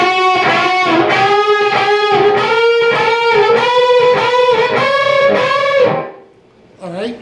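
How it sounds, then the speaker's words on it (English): Distorted electric guitar sustains bright unison bends from a song, a rich buzzing tone repeated in pulses for several seconds before cutting off, followed by a brief short sound. "Next measure will be our unison bends"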